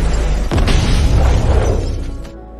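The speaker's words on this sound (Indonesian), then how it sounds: "tempat itu tiba-tiba meledak" A loud, sudden explosion from the Aquaman film bursts in with a deep boom and crashing, shattering debris, then the rumble slowly fades.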